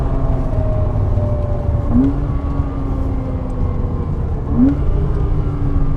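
A car engine idles and runs steadily at Goodwood Motor Circuit, a low rumbling drone with two quick upward rev blips a few seconds apart, close and fairly loud, with no talking.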